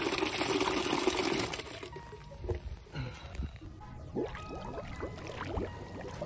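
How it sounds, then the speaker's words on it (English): Dirty water is dumped from the tank of a carpet cleaning machine, starting as a loud rushing gush of liquid and then breaking into gurgling splashes and trickles. "you guys love to see the dirty water dump"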